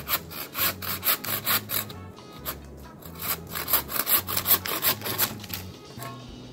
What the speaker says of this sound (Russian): Сухая древесина охуительно пилится.